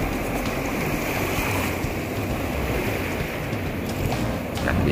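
Waves washing onto a pebble beach by the sea make a constant, fairly loud rushing wash, with light wind noise throughout and nobody speaking.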